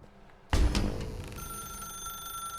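A telephone rings in the video game The Stanley Parable 2, one sharp ringing burst at the start that settles into a sustained, steady bell tone with no talk over it.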